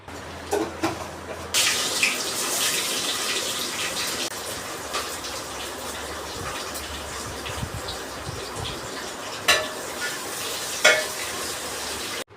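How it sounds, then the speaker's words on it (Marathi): Hot oil starts sizzling loudly in a pan as spices are tempered for biryani, and keeps crackling steadily, with the occasional clink of a spoon stirring. "आता इथे ना बिर्याणीला फोडणी देऊन घेते"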